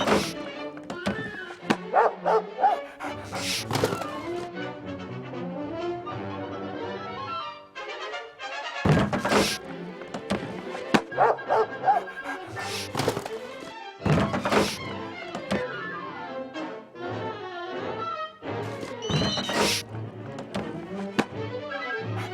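Lady the cocker spaniel in the 1955 animated film barks and yips while catching a rat, amid a busy commotion of heavy thunks and crashes that come in repeated bursts between quieter moments.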